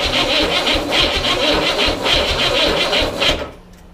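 A refurbished Chevrolet Corvair engine, started cold with no choke, runs with a loud, pulsing, uneven chug close by, then cuts off abruptly near the end, leaving quiet.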